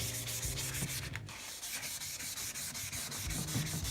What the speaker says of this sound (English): sanding back and forth